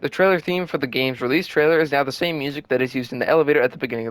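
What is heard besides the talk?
None of the usual background noises is heard.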